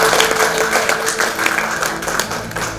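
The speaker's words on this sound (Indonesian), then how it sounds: "Tepuk tangan dulu." Audience applause at a speech about Papua, a loud dense wash of many hands clapping, steady throughout and tapering slightly at the end, with no talking over it.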